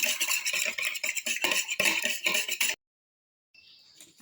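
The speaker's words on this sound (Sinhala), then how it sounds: "ඒක පොඩ්ඩක් මම මෙන්න මේ ආකාරයට මික්ස් කරගන්නවා." Two eggs being whisked in a bowl, a rapid run of close, scraping taps for nearly three seconds, then stopping abruptly before a faint rustle.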